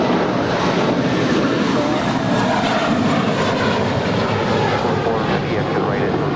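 A United plane roars down runway 25 right at LAX on takeoff, a loud broadband engine rush holding steady throughout, with radio voices talking over it.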